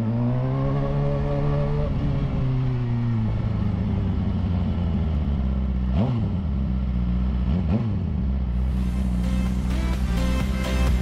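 A car engine revs through its exhaust tip, a deep steady idle rumbling close by, with pitch swelling and falling in several throttle blips toward the end.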